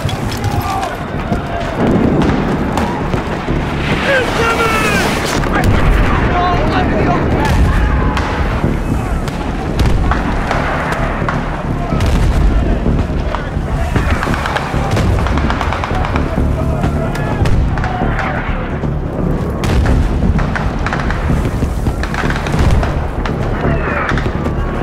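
Mortar fire in the Battlefield 3 mission Operation Guillotine: repeated heavy booms and explosions over a dense, loud battle din with running footsteps, and soldiers shout throughout.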